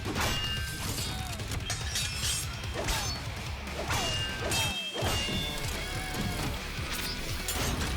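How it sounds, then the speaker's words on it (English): Sword fight in an animated short, with rapid metallic clashes, whooshes and heavy impacts over a driving metal guitar soundtrack, dense and continuous with a brief drop near the middle. "And then comes the sword fight."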